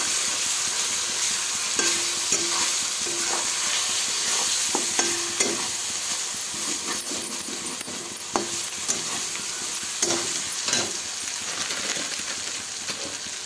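Ginger garlic paste frying in a pan for a chicken curry: a steady, close sizzle runs throughout, broken by scattered clicks and scrapes of stirring.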